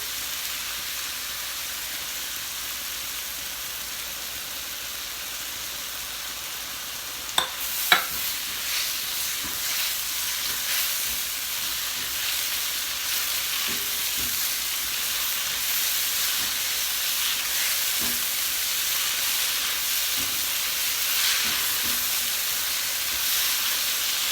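Shrimp and broccoli fry over high heat in a pan as homemade sauce goes in, a steady bright sizzle and hiss with a couple of sharp clinks and scattered stirring scrapes throughout.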